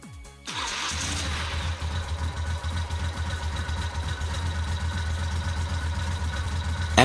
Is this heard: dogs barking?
no